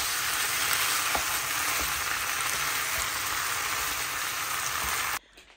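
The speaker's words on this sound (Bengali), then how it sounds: "এটা আরও ভাজবো, খেতে খেতে এটা আরও ভাজা হবে" Food sizzling in a pan, a dense, even crackle and hiss that carries on steadily for about five seconds before cutting off abruptly, with no talk.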